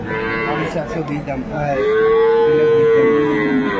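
A dairy cow moos loudly and close by at Aftabganj cattle market in Dinajpur, one long drawn-out call swelling in the second half over a busy background murmur of the market crowd.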